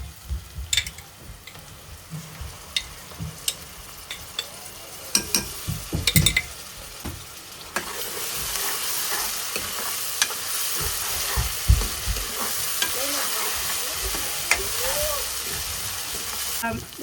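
Ginger garlic paste fries with softened onions in a pan, a soft sizzle under scattered scraping stirs and clinks that grows into a steadier hiss partway through.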